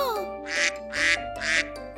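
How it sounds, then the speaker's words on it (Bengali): A duck quacks three times in a row, loud and close, each call a short harsh burst over a steady sustained tone in the background. "প্যাক প্যাক করতে করতে বিলের জলে সাঁতার কাটতে যাচ্ছিল একটা হাঁস"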